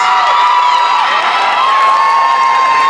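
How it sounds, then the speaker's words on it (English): A crowd at a cosplay contest in a mall cheers and applauds continuously, loud and sustained, with whoops rising over a dense roar. "A round of applause!"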